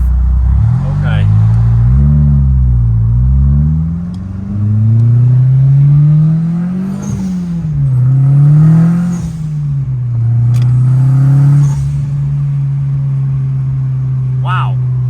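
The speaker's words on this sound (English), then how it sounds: "I love the sound of this car." A turbocharged 1992 VW Golf GTI Mk2 engine revs and accelerates loudly from inside the car, its drone rising and falling through several gear pulls before settling into a steady hum, with talk in the cabin.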